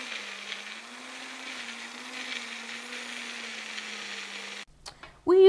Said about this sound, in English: chop up a quarter head of cabbage and put it into a small blender